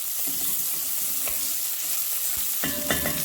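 Diced pancetta sizzling and rendering in a hot pan while being stirred, a steady close crackle with scraping stir sounds breaking through now and then.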